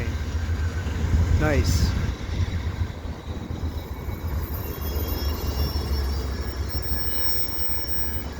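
Freight train at Dorval rolling past steadily and close, with a brief rising wheel squeal early on, rumbling on under a short spoken remark.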